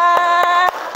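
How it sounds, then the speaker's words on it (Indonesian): A school class claps hands in four sharp, evenly spaced beats over a sustained tonal hum, loud and close. "Tepuk tangan dong untuk kita semua."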